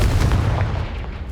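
Confringo fire spell exploding in Hogwarts Legacy, a loud, close, booming blast with a heavy low rumble that fills the whole moment and barely fades, with no voices.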